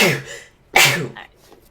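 Two quick sneezes close to the mic during a Dungeons & Dragons session, the second sharper and louder, followed by a faint sniff.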